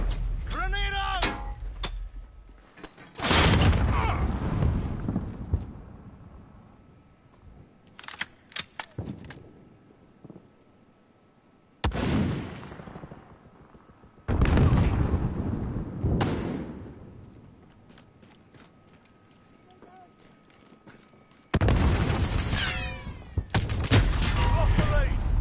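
Grenade blast and gunfire in a video game, several loud bursts of shots and explosions separated by quieter stretches, with radio-style voices talking in between.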